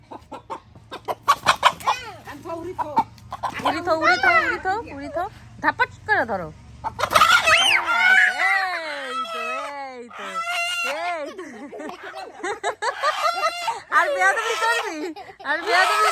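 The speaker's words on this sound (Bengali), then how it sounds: "দেশি মোরগ বলে কথা ধরতে তো কষ্ট হবেই" A desi rooster clucks and squawks in loud, agitated bursts and lets out crowing calls while being caught, close by, mixed with people talking and shouting.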